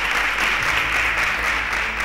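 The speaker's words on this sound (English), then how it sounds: "Round of applause for them." Steady applause from a studio audience for quiz show contestants who answered correctly, an even broadband clapping wash filling the whole moment without talk.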